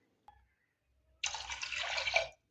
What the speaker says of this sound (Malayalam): അതിലേക്ക് 2 കപ്പ് വെള്ളം ആഡ് ചെയ്ത് കൊടുക്കാം.